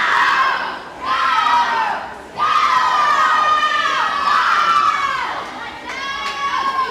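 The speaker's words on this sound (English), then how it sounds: "You find that their teammates and coaches cheer for them in the rhythm that they are swimming." Teammates and coaches at an indoor swimming meet shout and cheer in loud, rhythmic surges with short dips between bursts, young voices mixed in, echoing steadily throughout.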